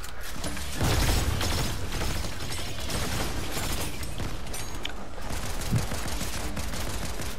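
Dense Fortnite gunfire with mechanical clicks and clatter of weapons reloading, loud and continuous, bursts of shots layered over one another throughout.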